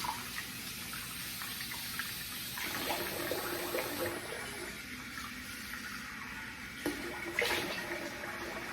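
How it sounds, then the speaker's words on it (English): Tap water runs steadily into a sink while a face is rinsed after shaving, a close, continuous hiss and splash with a few brief surges and no talk. "Okay, I'm gonna rinse the face here."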